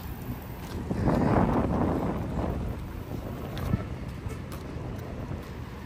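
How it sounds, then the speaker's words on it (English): Wind buffets the microphone in gusty rushes during a downtown walk, strongest early on, then easing to a softer, uneven roar with faint creaks in the background. "it's windy."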